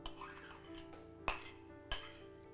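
Light clinks of a utensil against a bowl as chopped tomato is put in, two sharp taps standing out over a quiet room.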